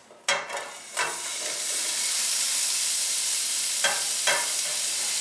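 Peppers hit hot olive oil in a pan over medium heat, giving a couple of sharp crackling bursts followed by a steady, close, continuous sizzle and hiss, with brief stirring flare-ups later.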